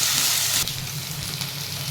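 Green chillies sizzle steadily as they are sautéed in a hot pan, a close, continuous hiss that eases slightly partway through.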